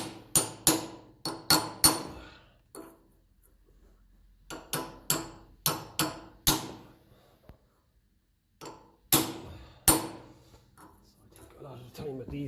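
A seal being tapped into its housing on a 1954 Ferguson TE20 diesel tractor: sharp, close metallic hammer taps in quick clusters of two to four blows, separated by short quiet pauses.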